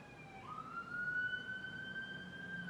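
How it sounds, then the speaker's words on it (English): An ambulance siren wails outside, faint and distant, its tone sliding upward and then holding a steady pitch while it passes, over low background noise. "All right, Mr. Ambulance, do your thing, honey."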